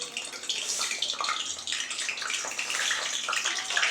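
Pieces of pointed gourd fry in hot mustard oil in a pan, giving a loud, steady, close sizzle with bright crackling throughout and no talking.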